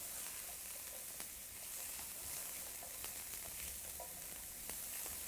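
Chopped vegetables cooking down in olive oil for a turmeric soup, a quiet, even sizzle and hiss throughout with occasional faint pops, no talk.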